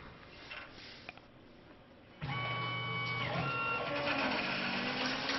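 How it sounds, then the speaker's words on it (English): A RapidTurn lathe on a Tormach PCNC 1100 mill cutting metal, quiet machine hum that suddenly switches to a loud, steady whirring cut with whining tones and a gradual pitch shift, continuing to the end. "chips are coming out beautifully. The RapidTurn is a single-sided lathe"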